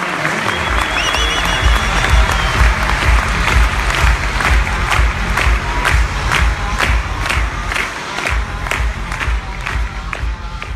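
An audience at a corporate talk bursts into loud, sustained applause with cheering and whoops, dense clapping filling the room for about ten seconds.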